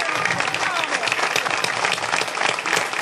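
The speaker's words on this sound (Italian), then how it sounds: "Un grandissimo applauso a Mauro" Dense, steady crowd applause at a 2018 closing political rally in Italy, sustained and loud throughout with no break.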